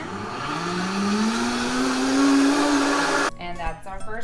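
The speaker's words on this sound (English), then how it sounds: "We're going to turn it on. And we're going to turn it all the way up to a 10." Vitamix E320 blender motor ramping up to full speed at setting 10, a loud rising whine that holds steady, then cuts out into a choppier, sputtering tail near the end.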